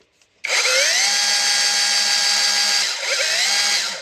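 Parkside cordless power tool on a Performance X20V battery kicks on after a soft click and runs at a loud steady whine, dipping briefly in speed near the end before spinning back up, close to the listener.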